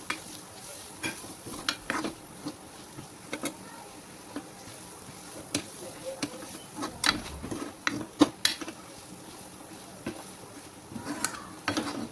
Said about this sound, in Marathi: डाळ टाकल्यावर सगळा मसाला आपण फिरून घेऊ.